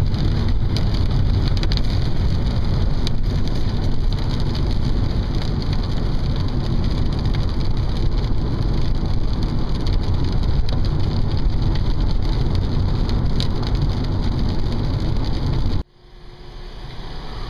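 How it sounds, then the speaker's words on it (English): Heavy rain drumming on a car while driving up Hurricane Ridge in Olympic National Park, a loud steady roar of drops over low road and engine rumble, cutting off abruptly near the end. "it is really raining hard outside"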